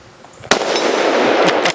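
A single loud, close suppressed shot from a bolt-action rifle fired outdoors, a sharp burst followed by a sustained broadband rush that lingers, with a couple of fainter cracks trailing near the end.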